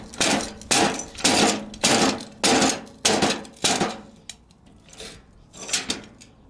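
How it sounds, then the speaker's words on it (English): A hammer knocks the wheel off a drift trike with about eight loud, resonant metallic blows in an uneven rhythm, then a pause and one last strike. "You get your trusty hammer"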